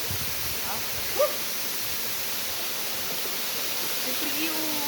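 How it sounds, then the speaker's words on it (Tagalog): Waterfall on a hike, a steady broadband rush of falling water heard close and loud, with faint voices and a brief knock barely showing above the roar. "Maganda talaga yung falls dyan."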